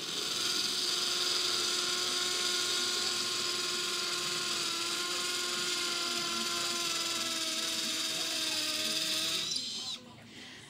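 A cordless Milwaukee drill bores through brick with a steady, loud high whine and grinding hum for about nine seconds, then winds down and stops.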